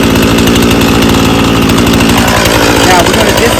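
A powered saw runs loudly and steadily at close range during a test run on a tree limb, its engine drone pulsing rapidly and unbroken, with a voice talking over it.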